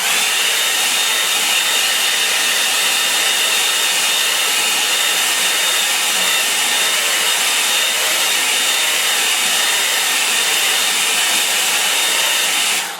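A hair dryer blows steadily on a watercolour painting, a loud, constant hiss that holds unbroken from start to finish with no voices over it.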